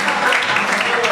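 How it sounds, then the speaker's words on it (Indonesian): Audience applause for a speaker at an Indonesian talk-show event, a dense continuous wash of clapping at steady loudness with some crowd voices mixed in, filling the short moment. "Tepuk tangan sekali lagi untuk Bang Dias Danar."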